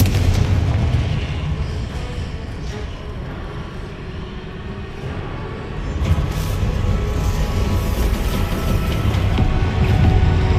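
Confringo explosive fire spell cast in the video game Hogwarts Legacy, dense rumbling blasts and booms running continuously, loud and close, with no voices.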